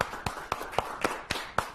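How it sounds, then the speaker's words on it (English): A round of applause from an audience, heard as a short run of distinct, evenly spaced claps, fairly close and crisp, about seven in under two seconds. "Give them a nice round of applause as they stand up."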